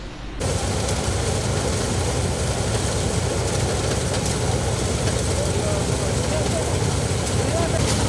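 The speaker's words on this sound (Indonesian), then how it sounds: "Pemanenan dengan menggunakan rombongan harvester untuk hari ini." A combine harvester cutting rice during a harvest in Aceh, heard as a loud, steady engine roar that stays constant throughout.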